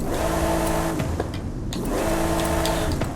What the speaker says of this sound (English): So you could definitely hear that supercharger a lot more because of the intake.